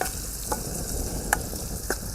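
Curry leaves crackle and sizzle in hot tempering oil for a corn chevda, with a steady broadband fry hiss and a few sharp scraping stirs of the spoon against the pan, close up and without talk.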